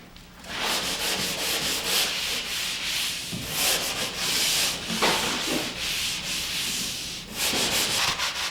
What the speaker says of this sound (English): Now I'm ready for the final touch-up sanding.